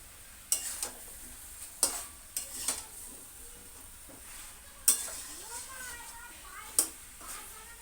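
Meat and taro cook in a pan with a low, continuous sizzle, punctuated by several sharp clinks and scrapes of a utensil against the pot at irregular intervals.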